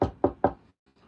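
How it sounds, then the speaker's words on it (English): Three quick, close knocks on wood, evenly spaced and sharp, then a brief faint trailing sound and quiet. "Poppy, that's my dog because he heard me knock."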